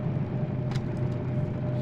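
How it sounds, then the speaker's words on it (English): A DM3 diesel locomotive hauling a heavy freight load in the Derail Valley train simulator holds a steady, loud low engine rumble under light engine braking, with a short hissing burst partway through. "Put on a little bit of an engine brake"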